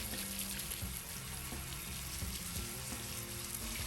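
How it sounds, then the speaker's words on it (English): A garden hose sprays water over a vintage GMC motorhome wheel to rinse off rust dust, making a steady, fairly quiet rushing splash that stays even throughout, with no talk. "you're gonna take this and you're gonna hose it off"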